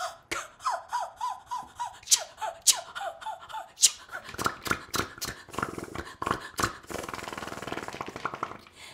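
A voice imitates a cement mixer, with rhythmic breathy, gasping and snorting pulses that speed into a churning, continuous rumble, close and fairly loud.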